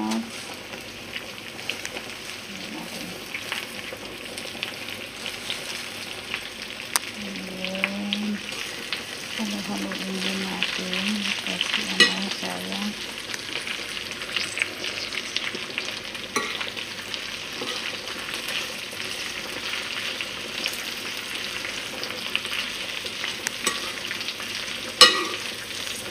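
Spinach fries and sizzles in a pan with steady frying noise and occasional stirring scrapes, while a voice murmurs briefly near the start.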